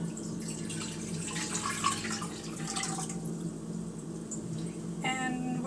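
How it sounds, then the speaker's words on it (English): Water pours and splashes into a cooking pot, about four cups, a moderately close, uneven trickle with brief drips and sloshing, no speech. "now I have my pot and I'm going to add about 4 cups of water to"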